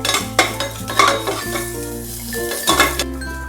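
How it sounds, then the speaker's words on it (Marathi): Red byadgi chillies and asafoetida fry in a cumin tempering in a pan, a close crackling sizzle broken by metal spoon clinks and scrapes against the vessel, with no talking. "आपण हे लाल बेडगी मिरची टाकून घेऊ। थोडासा हिंग टाकून घेऊ, छान परतून घ्यायचं"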